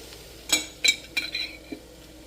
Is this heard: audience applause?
no